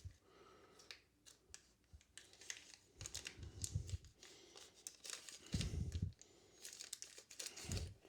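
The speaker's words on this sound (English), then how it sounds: "Seems to be 2 pieces of paper on a crumbled up piece of paper" Crumpled paper is unfolded and handled close by, with crisp crinkling, rustling and soft taps in irregular bursts and no talking.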